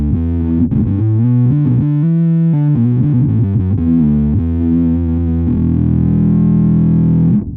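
Bass guitar played through a Zoom B6 processor with a 4x12 cabinet impulse, distorted and loud, a quick run of notes ending on a long sustained chord, with no talking.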